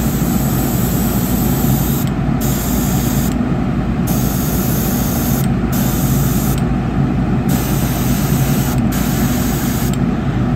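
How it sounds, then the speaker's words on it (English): A hobby airbrush spraying moss green paint onto a repurposed Jitterbug bullfrog fishing lure, a steady, loud hiss running continuously at close range with no pauses and no voices. "I'm going to go ahead and use my other airbrush. Put just a little bit of moss green in."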